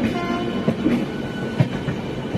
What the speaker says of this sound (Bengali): ফাইনালি হাওড়া ঢুকছে। দেখো 5 ঘন্টা লেট ছিল ট্রেন।